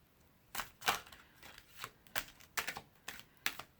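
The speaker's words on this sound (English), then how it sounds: "So I'm going to shuffle this." Quick bursts of crisp riffling as an oracle card deck is shuffled, about seven short flutters in an uneven rhythm, close and fairly quiet with no talking.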